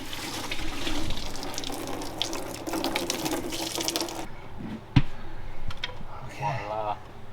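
Water runs from a tap for a few seconds with faint talk nearby, then stops, followed by a clunk and a brief voice.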